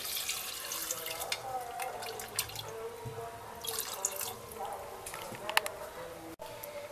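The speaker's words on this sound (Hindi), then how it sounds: "थोड़ी पानी डालेंगे" Water poured into a pressure cooker holding chopped okra and potatoes in a home kitchen, a soft steady trickle and splash with a few drips, close and quiet throughout.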